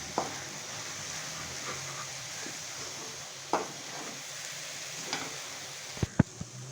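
Lobia (black-eyed pea) curry stirred in a pot, a faint sizzle with occasional soft scraping strokes and a few sharp utensil clicks at the close.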